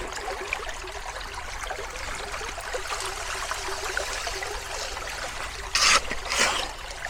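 Water trickling steadily through a gold-panning sluice set in a slow, low-flow stream, a continuous close babble with a brief louder splash near the end.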